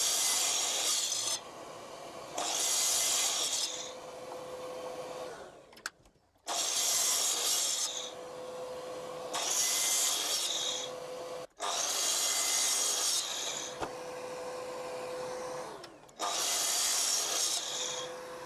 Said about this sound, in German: wie einfach und sicher man jetzt da wirklich an der Kapp- und Gärungssäge solche kleinen Stückchen zusägen kann